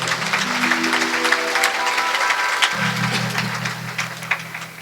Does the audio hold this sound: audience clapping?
yes